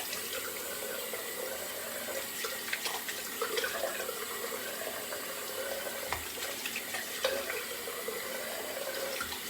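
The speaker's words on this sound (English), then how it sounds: "We'll go into the rinse." A razor rinsed under a running tap: a steady close stream of water splashing into a sink, with small irregular clinks and splashes as the razor head moves through it.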